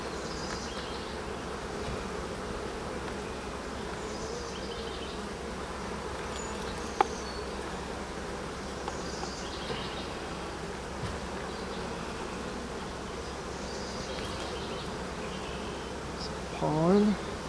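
Honey bees buzzing steadily around an open beehive during a hive inspection, a continuous close hum of many insects with occasional faint handling noises.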